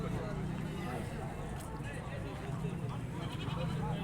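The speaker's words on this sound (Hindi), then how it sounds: "दिखाते हैं आपको एक भेड़ जिसका सौदा हो रहा है।" Sheep bleat amid the busy, constant din of a free roadside livestock market, with crowd noise and voices throughout.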